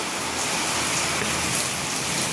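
Heavy rain pours down in a village in a dense, constant hiss, loud and unbroken throughout.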